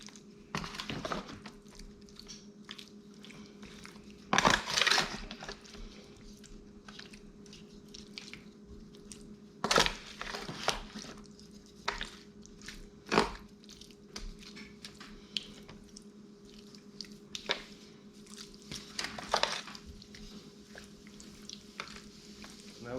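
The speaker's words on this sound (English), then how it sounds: "I'm just gonna take a spoon now and mix it up a little bit" Burnt ends being stirred with a spoon make wet, sticky squishes and scrapes in irregular bursts, with a few sharper clinks against the pan over a low background hum.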